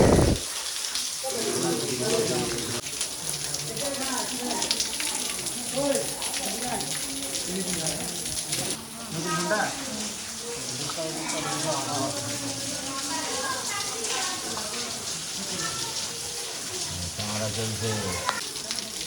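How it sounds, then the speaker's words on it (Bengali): Water pours down steadily inside Shivgadi Dham temple in Jharkhand, a continuous rushing wash that runs beneath people talking throughout. "পুরো জল পড়ছে এই দিক দিয়ে"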